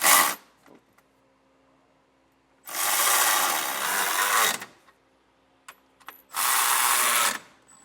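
Ratchet with a 17mm socket snugging M10 hitch bolts on a 2023 Hyundai, heard as two long bursts of rapid, close mechanical clicking, with a short burst at the start and a few brief clicks between.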